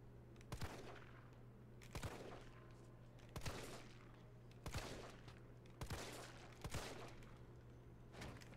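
Gunfire from Resident Evil 3 Remake: about six sharp shots spaced at roughly one-second intervals, each ringing out briefly over a low, steady background hum.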